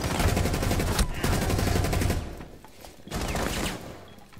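Rapid, dense gunfire in the Rainbow Six Siege shooter, with near shots clustered up close and a short pause before a quieter second burst.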